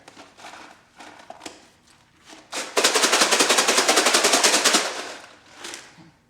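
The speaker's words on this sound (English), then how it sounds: "this is what it sounds like when he uses them for a shaker" Legos rattle inside a plastic container used as a homemade shaker, first in a few scattered shakes, then in a fast, steady, loud rhythmic shaking before stopping.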